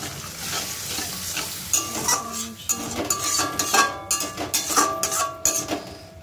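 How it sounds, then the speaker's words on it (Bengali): Masala being fried with a splash of water in a pan over raised gas heat, a steady sizzle under repeated scraping strokes of a spoon against the pan, close and continuous with no talk. "মশলাটা কষতে দিই"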